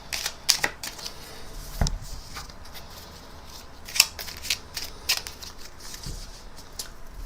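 Quick, crisp riffling and snapping of playing cards being shuffled up close, in irregular bursts with soft taps and rustles between.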